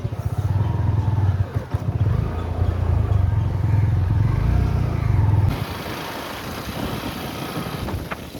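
A motorcycle on a morning ride rumbles steadily with a low engine drone and wind noise, loud and close, then the tone drops and thins for the last few seconds as the ride continues.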